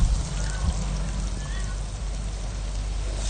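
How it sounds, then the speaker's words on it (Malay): Tamarind water is poured into sambal frying in oil in a pan, giving a steady close watery wash and trickle with a faint sizzling hiss throughout, no voices. "letakkan 25 ml air asam jawa"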